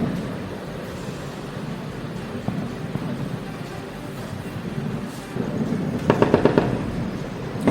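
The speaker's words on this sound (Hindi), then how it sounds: "ये गोलियों के तड़तड़ाहट की आवाज है।" Gunfire at the Line of Control, a distant low rumble and scattered reports building to a rapid rattling burst of shots near the end.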